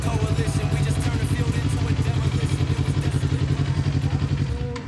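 Superbike engine rumbling at low speed while pulling into the pit garage after a race lap, a close, steady, pulsing exhaust throb that fades slightly at the end.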